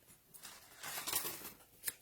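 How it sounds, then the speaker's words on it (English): Scissors snip through a paper Happy Mother's Day piece for a sunflower card, a close series of soft, crisp cuts that build into a longer rasping slice and a final sharp snip. "gonna go ahead and cut out Happy Mother's Day"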